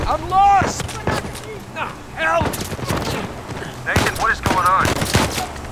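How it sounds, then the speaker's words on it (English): Gunfire in Uncharted 4: A Thief's End on PS4, bursts of shots and fusillades erupting repeatedly amid loud, frantic talking and shouting from several voices. "I'm being shot."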